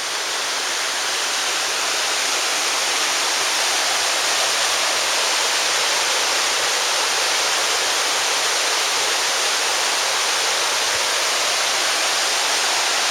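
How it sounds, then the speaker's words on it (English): A waterfall on Kolob in Zion National Park pours off volcanic cliffs toward the Virgin River, a dense, steady broadband roar of falling water with no talk. "All the water from this waterfall ends up in the Virgin River"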